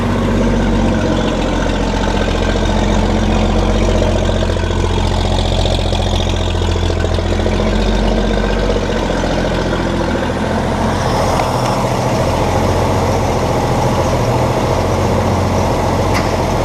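A 1956 GMC truck engine running at idle, loud and close, a steady low rumble that holds throughout with no talking.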